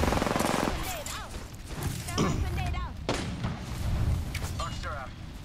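Peacekeeper shotgun fire in Apex Legends mixes with other weapons' gunfire in a chaotic firefight, with repeated sharp booms and rattling shots over a noisy game background while players talk.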